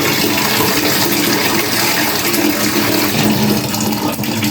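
Hand washing under running water, a steady loud rush of flowing water gushing continuously without pause.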